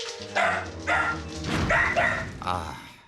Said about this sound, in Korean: 갑자기 다시 현관문 앞에 모여 짖기 시작하는데요